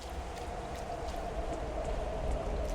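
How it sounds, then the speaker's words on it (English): Steady rain falls in a video game, a continuous even hiss of close, dense rainfall with no talking. "Big fan of the rain. I like it."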